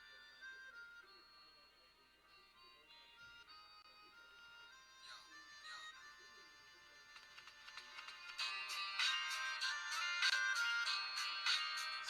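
Music plays from the external speaker of an ODEJOI 64GB Bluetooth MP3 player, a thin, tinny melody that starts quietly and grows fuller and louder toward the end, with no talking over it.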